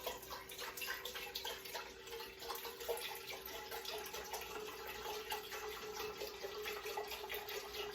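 Broth poured into a pot over pressed garlic and red potatoes, a steady continuous liquid splash and trickle running close and moderately loud for the whole stretch, with no talking.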